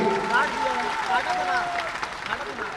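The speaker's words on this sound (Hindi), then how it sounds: "आप इनके लिए एक बार जोर से ताली बजाइए" Crowd applause at a political party gathering in Bihar rolls on steadily while voices and chatter carry over it, the clapping dense and continuous from start to finish.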